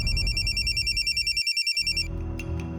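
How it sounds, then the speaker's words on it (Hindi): A telephone ringtone trills in a steady repeating pulse during an outgoing call, loud and close over a low background hum, then cuts off and gives way to quieter room sound. "उसके बाद फौरन मैंने मुकेश को फोन लगाया"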